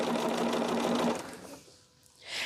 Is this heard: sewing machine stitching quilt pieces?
yes